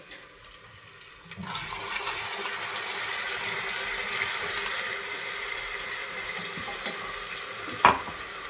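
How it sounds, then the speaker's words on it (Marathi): Ground masala paste fries and is stirred in a cooker, a continuous close sizzle with scraping and a sharper clatter near the end, preceded by a few brief knocks. "आता आपण हे वाटण फ्राय करून घेऊया"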